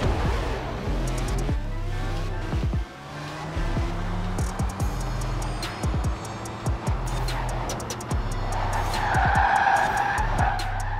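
Rimac Concept 2 electric hypercar in a Forza Horizon 4 drag race, accelerating hard on drag tires with loud continuous engine drone, gear shifts and bursts of tire skidding, rising to a sustained squeal near the end.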